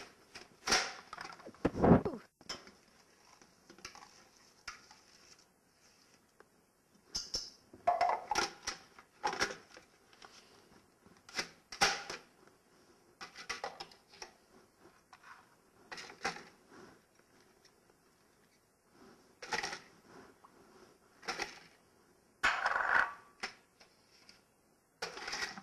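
Food processor pulsing to chop vegetables for chili: short mechanical whirring bursts repeat at uneven intervals with quiet gaps between them, clattering and moderately loud, with no voices.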